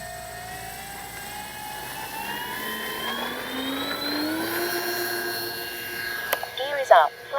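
Twin electric motors of a FlightLine P-38 1600mm RC plane whine steadily during takeoff in gusty wind, the pitch climbing as it speeds away, with a few sharp knocks near the end.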